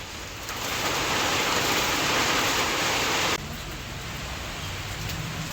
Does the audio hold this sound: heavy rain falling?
yes